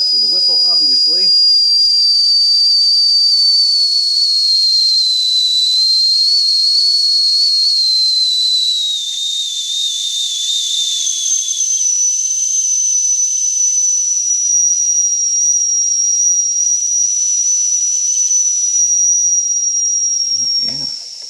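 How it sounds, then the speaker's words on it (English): A steam whistle on a Jensen Model 25 steam engine vents the last boiler pressure in one long, loud, continuous high-pitched tone with a breathy hiss, its pitch sagging slightly as the pressure drops. "Venting the last of that through the whistle"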